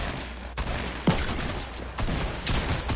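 Shooting-game gunfire crackles in quick, dense bursts, with one sharper crack standing out among the near, continuous shots and no voices.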